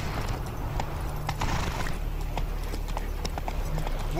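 Witcher 3 horse Roach galloping, rapid clip-clop hoofbeats running steadily at moderate volume over a constant low rumble of game ambience.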